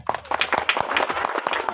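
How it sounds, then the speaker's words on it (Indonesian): Schoolchildren at an elementary school Maulid Nabi gathering clap their hands in a dense, uneven patter of many overlapping claps, loud and close, with no talking over it. "Ini tepuk tangan dulu"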